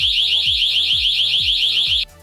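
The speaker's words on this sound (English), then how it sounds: "In the event of a break-in, you can activate an alarm." A Smart-i home security system break-in alarm blares a loud, steady high-pitched electronic tone pulsing rapidly over a regular low thumping beat for about two seconds before cutting off abruptly.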